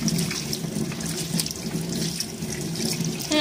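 Tap water runs steadily into a sink, rinsing a homemade goat's milk bleaching soap bar, a continuous close splashing stream with no talking.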